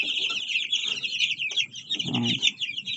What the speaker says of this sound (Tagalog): Ito na ang ating mga sisiw.